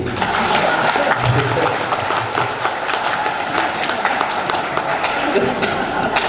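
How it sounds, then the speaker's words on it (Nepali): An audience clapping at a political speech, a dense continuous patter of applause with thumps throughout, loud and close, a voice faintly mixed in. "यो ताली मैले तपाईँलाई रिक्वेस्ट गरेर मागे होइन"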